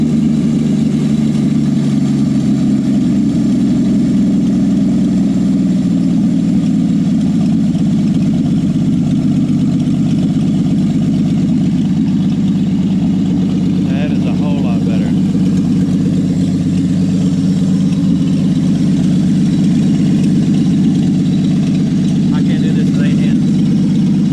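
A Willys truck engine idling, a loud, steady low rumble that runs unbroken throughout, with someone talking briefly over it.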